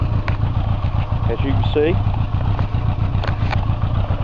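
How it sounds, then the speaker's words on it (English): A 1983 Honda Goldwing motorcycle engine idles cold without choke, a steady, even low rumble running continuously close by while someone talks over it. "Bike idles cold with no choke."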